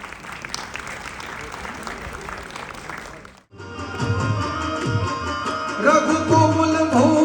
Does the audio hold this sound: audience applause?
yes